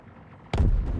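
A point defense cannon fires on a ship in the Star Citizen space game, one sudden heavy boom after a quiet lead-in, with a rumbling low-end tail.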